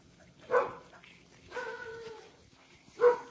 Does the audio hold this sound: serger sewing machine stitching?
no